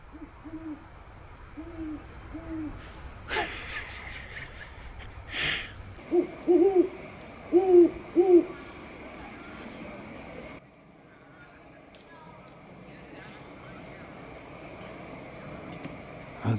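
An owl hoots at Del Valle Lake with soft, repeated, distant calls. Louder, closer hoots from a voice imitating the owl answer it, with outdoor ambience and a few brief knocks.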